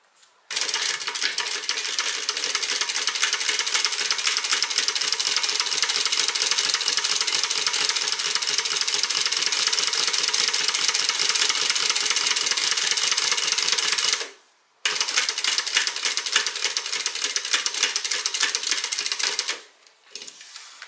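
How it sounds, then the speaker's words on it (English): A sewing machine stitches a zipper onto a quilted tote bag, a dense rapid mechanical clatter running steadily for about fourteen seconds, pausing briefly, then resuming, close and loud with no talking. "you want to stitch 1/4 inch, just straight down this line, and sew this zipper on"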